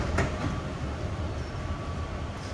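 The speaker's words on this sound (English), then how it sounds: "The doors will open and here we go in the train." Steady rumble inside a moving airport sky train car at Singapore Changi Airport, with low rolling noise and faint clunks, no voices present.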